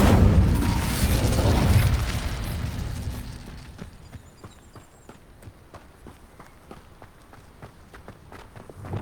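A fiery Incendio spell bursts loud in Hogwarts Legacy, a dense roaring whoosh for about two seconds that fades into scattered footstep-like taps and thuds with no talk.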